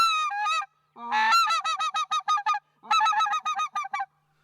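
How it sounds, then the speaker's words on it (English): Whitefront (speck) goose call blown hard to work a flock: loud, rapid strings of high two-note yelps and clucks in several bursts, with short pauses between, close and alone. "I'm a little noisier with my speck call."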